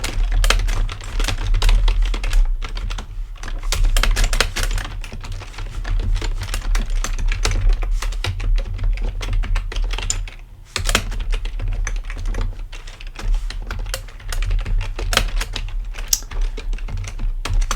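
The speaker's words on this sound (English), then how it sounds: "So I'm going to type a couple lines here." Steady, fast typing of Python code on a computer keyboard, dense key clicks running continuously for about eighteen seconds with a brief pause near the middle, close and fairly loud with a low hum beneath.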